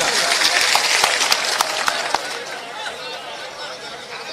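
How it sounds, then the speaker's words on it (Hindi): A large crowd at a political rally in Shahpur, Madhya Pradesh, claps steadily, a dense wash of applause with a few sharper claps standing out, and murmuring voices mixed in. "सभी तालियां बजाकर स्वागत करिएगा"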